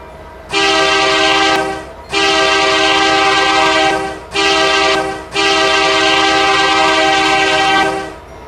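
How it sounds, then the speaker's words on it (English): A multi-chime locomotive horn on an SD60 diesel in a train video game, sounded in four long blasts with short gaps, loud, close and steady, with no talk. "there's also another horn variant of the SD60"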